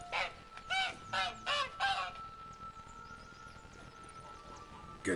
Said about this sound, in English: We freed the goose.